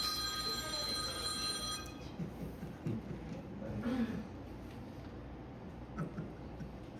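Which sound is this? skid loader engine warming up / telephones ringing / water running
telephones ringing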